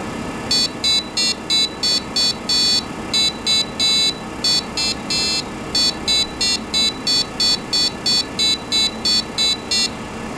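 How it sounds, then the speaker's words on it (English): A small Arduino buzzer plays a little song, a quick series of short, shrill electronic beeps in an uneven melodic rhythm, loud and alone over a faint background hum. "this is a buzzer with just a few wires. You can make a little song."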